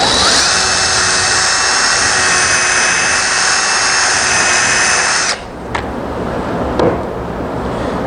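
Power drill driving 3-inch exterior-grade lag screws into a wooden gate frame, a loud close whine held for about five seconds then cutting off, followed by a couple of brief knocks.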